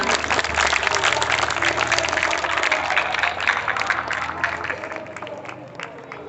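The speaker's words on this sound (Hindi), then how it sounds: "भाई ताली बजाएं, बच्चे के लिए ताली बजाएं।" Audience clapping at a school toppers felicitation ceremony, steady dense applause from a crowd holding throughout, easing slightly toward the end.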